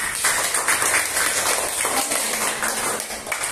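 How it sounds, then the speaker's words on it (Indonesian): A group of schoolchildren in a classroom lesson claps together, a loud, close, slightly uneven burst of applause lasting a few seconds with no talking. "Tepuk tangan untuk kita semua."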